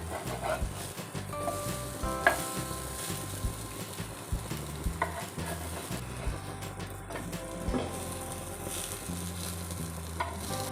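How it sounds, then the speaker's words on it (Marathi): Sweet corn chilla batter frying in oil on a pan, with a steady close sizzle and scattered scraping and clinking as the spatula flips them, alone without talk. "आता आपले तिन्ही चिले झालेले आहेत आता आपण ह्याला पलटवायचं आहे मस्त असे खरपूस झालेत"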